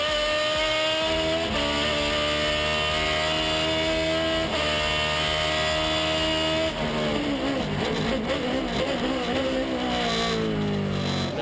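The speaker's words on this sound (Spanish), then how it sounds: "Se rompe el escape en el Peugeot número 13." Super TC2000 race cars at speed on a circuit in General Roca, including a Peugeot number 13 running with a broken exhaust; a continuous loud, droning engine roar holds throughout, with shifting pitch toward the end as cars pass close by.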